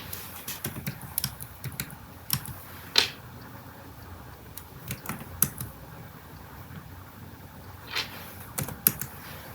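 Computer keyboard typing as data is entered into a program, with irregular clusters of soft, close key clicks and short pauses in a quiet room.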